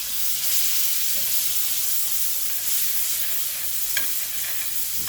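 Boneless strip steak searing in a hot pan just after being flipped, a loud, continuous hissing sizzle with occasional sharper spits and pops, close by and without speech.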